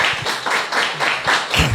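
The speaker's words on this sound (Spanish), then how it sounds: "Vamos a celebrar con un aplauso a los que estamos aquí, que Mauricio esté aquí, ¿verdad?" Brief applause from a small audience at a public conference on public employment law, with patchy clapping rising and falling over less than two seconds and no speech over it.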